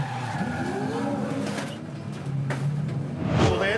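A Supercars touring car crashes during a race, with tyres squealing in sharp rising streaks over roaring engine noise, followed by a loud scraping burst near the end.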